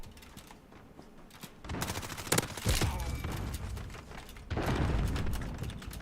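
A gun with no recoil fires in a PC shooter game, heard as rapid automatic bursts at moderate level, with a busy, dense texture of shots and game sounds.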